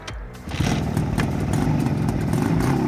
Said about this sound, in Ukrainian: Заводи мотор.